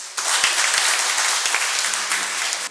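An audience at an astrology talk bursts into applause, a dense, loud wash of clapping that starts abruptly and holds steady until it cuts off.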